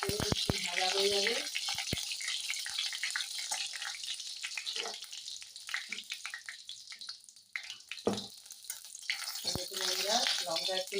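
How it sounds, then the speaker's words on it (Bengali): Dried red chillies sizzle in hot oil in a pan, a continuous crackling hiss punctuated by sharp clacks and scraping knocks, with some faint voice-like sounds drifting in at the start and end. "এই শুকনো লঙ্কাটা লাল লাল করে একটু ভাজা হয়ে যাবে।"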